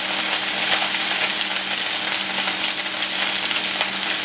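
Udon noodles with chicken and vegetables fry in a hot pan, giving a loud, steady, close sizzle that holds without a break from start to finish, with no voices over it.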